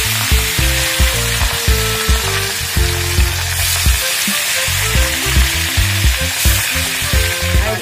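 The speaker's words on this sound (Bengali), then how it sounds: "এক এক করে কড়াই এখন মাছগুলো ছেড়ে দেবো।" Fish sizzle and fry in hot oil in a wok, a loud continuous crackle with rhythmic scraping and stirring knocks over it, no talking.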